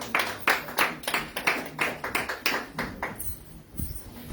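A church congregation at a Mother's Day service claps in praise, giving a steady run of loud, fairly even claps that carry on together and then thin out near the end.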